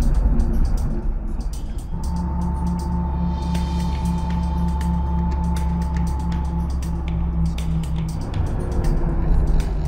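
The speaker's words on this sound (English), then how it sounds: "38-year-old Soviet car in traffic." An old Soviet car idles and creeps through stop-start Los Angeles traffic, its engine rumbling loud and close throughout, with a steady whine and clicking rattles, and no voices.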